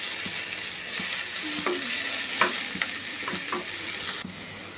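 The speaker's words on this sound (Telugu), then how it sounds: "మనము దీన్ని ఇంకా వేయించాలి, ఇంకా అవ్వలేదు" Spiny gourd (kasara kaya) fries in a pan with a steady soft sizzle, broken by a few sharp scrapes and clinks of a spatula stirring it, close and fairly quiet.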